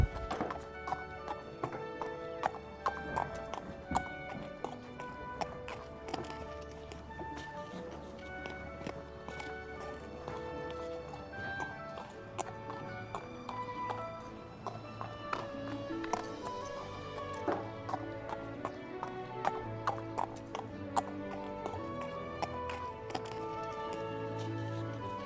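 Horses in the video game Star Stable clip-clop steadily across hard ground, a continuous walking rhythm with an occasional neigh, alongside background game music.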